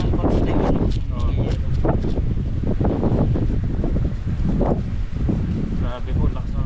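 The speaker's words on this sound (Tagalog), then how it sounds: "Grabe ang lakas na po ng hangin dito" Strong, gusty wind roars without a break across an open sea during a storm, a broadband blustery rush buffeting close to the microphone, with water and boat noise underneath and people talking over it.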